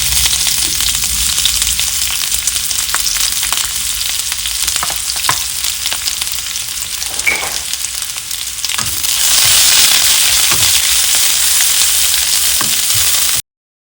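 Onions go into hot oil with whole spices in a cast iron pan for pepper chicken, giving a loud, continuous sizzle with occasional stirring knocks that swells louder partway through.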